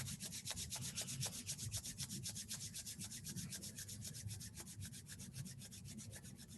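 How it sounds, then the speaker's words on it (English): Two palms rub briskly together in a steady, rapid back-and-forth rhythm, close and fairly quiet, with no talking over it. "bring the hands together in front of the heart center, rub your palms"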